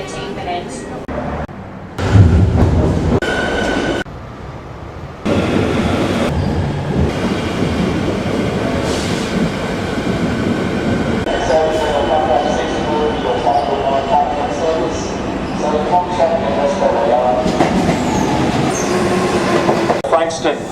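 Trains move through the platforms at Richmond Station in Melbourne, with rumbling wheels, clatter and metallic squeals continuing throughout, plus a few sharp bursts of louder noise early on, amid station ambience.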